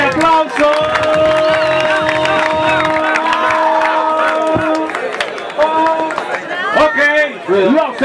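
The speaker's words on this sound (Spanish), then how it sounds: "¡Fuerte ese aplauso!" A crowd at a freestyle rap battle (Filtro PUYO 4, Cóndor de Oro) cheers, shouts and applauds loudly and continuously, with voices and whistle-like calls rising over the roar and a brief dip near the end.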